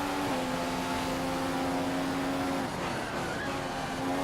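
F1 car in the F1 2015 video game accelerating off a corner, a steady engine drone with rising harmonic pitch, continuous and moderately loud with no talking.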